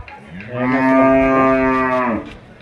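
A buffalo at the Kalghatgi cattle market lets out one long, loud, close low that swells and holds for over a second before tapering off, with no talk over it.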